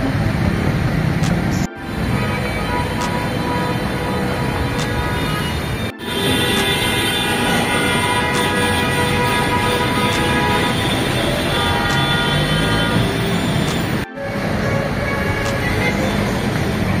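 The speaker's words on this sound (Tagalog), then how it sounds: "Ngayon, pasakay naman tayo ng MRT going to Tridong." Riding aboard an MRT train in Manila, with a continuous rumbling cabin drone, rail noise and faint tonal hum, interrupted by a few brief breaks, while people talk in the background.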